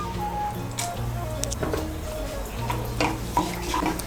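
Whole spices, crushed cardamom, cloves and a cinnamon stick, are stirred in hot oil for a Bengali doi echor, giving a soft steady sizzle with scraping spoon strokes and light clinks of metal against the pan.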